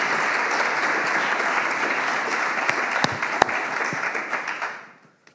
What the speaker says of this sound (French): je voulais qu'on les applaudisse d'abord.